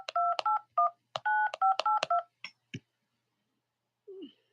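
A phone keypad beeping as a social security number is keyed in, a run of crisp two-tone presses in quick bursts with short gaps, then silence and a faint short tone near the end.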